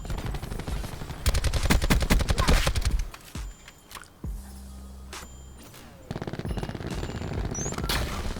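Bursts of automatic fire from a Call of Duty Black Ops 4 match rattle loud and close, a long stuttering volley, then a lull with a hum before another quick burst and single shots.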